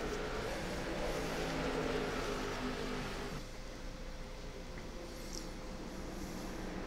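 Late model stock cars race around Martinsville Speedway, a continuous loud engine roar that dips slightly partway through as the pack moves on, with no talk.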